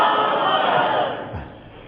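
A large crowd at a religious gathering bellows a slogan in reply to the nara-e-haidari call. The loud collective roar fades away toward the end, leaving a quieter murmur.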